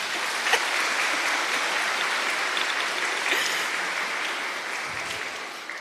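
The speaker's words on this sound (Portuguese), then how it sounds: "Palmas para Ele." Applause from a church congregation during a Mass homily, a steady dense wash of clapping that holds at even loudness for several seconds and eases slightly toward the end.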